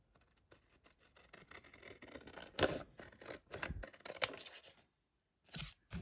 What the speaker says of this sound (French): je vais découper l'excédent comme d'habitude